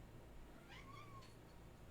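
A cat gives a single short meow, faint against a steady low background hum, with no one speaking.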